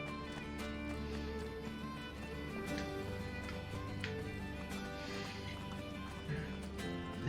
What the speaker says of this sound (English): Apparently Mario's favorite horse is not too keen on Ezio.